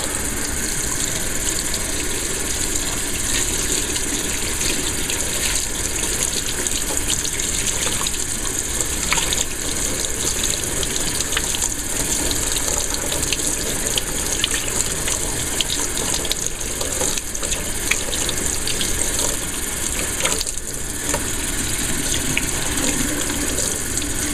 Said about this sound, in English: I'll just rinse the soap off.